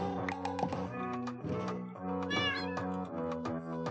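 Several cats in the video game Minecraft meow repeatedly in quick, overlapping calls, near and fairly loud, with light tapping clicks mixed in and no talk.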